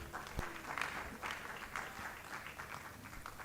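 Audience applause at a business summit session in Delta State, a steady wash of clapping from a crowd with a few sharper claps standing out, moderately loud throughout.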